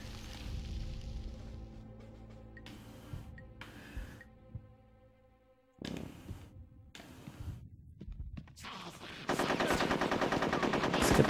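Gunshots in the N64 game Conker's Bad Fur Day, several separate sharp blasts spaced apart with a brief quiet gap, then a dense sustained burst of rapid fire building loud at the end.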